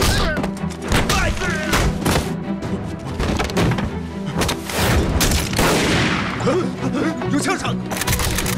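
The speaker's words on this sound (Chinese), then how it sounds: "有枪声" Gunfire crackles through a Chinese war drama set during the resistance against Japan: sharp, repeated shots and thuds in uneven bursts, loud and close, mixed with shouting voices.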